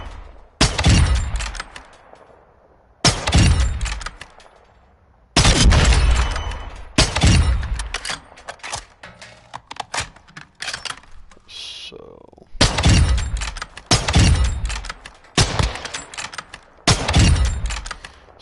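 Marksman rifle fired in Call of Duty: Modern Warfare 2 multiplayer, a string of loud, sharp single shots spaced a second or two apart, each with a booming tail, close and dominant.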